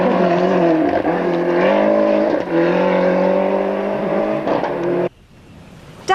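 A rally car in trouble during the 2001 Toshiba Rally, its engine droning loud and close with shifting revs for about five seconds before cutting off abruptly into quiet, with a brief noise at the end.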